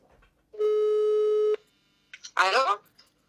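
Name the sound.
telephone call ringing tone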